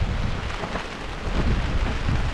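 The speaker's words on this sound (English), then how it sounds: "We're under the tarp. It's raining," Rain falls on a camp tarp in windy wilderness weather, a dense steady patter that rises a little louder partway through, with no voices.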